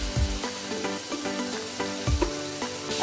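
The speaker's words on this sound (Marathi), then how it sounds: "आता याच भांड्यामध्ये आपण पनीर सुद्धा फ्राय करून घेऊया" Paneer fries in a pan at home, giving a steady loud sizzle with occasional low knocks and clatter from stirring, and no voices.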